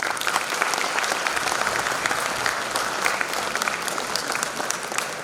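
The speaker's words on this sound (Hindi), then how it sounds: "पुनः आज सबसे पहले आप ताली बजाइए अपने आप के लिए" A university audience at a Bundelkhand University event applauds in a dense, steady roar of many hands that holds at a loud level from start to finish.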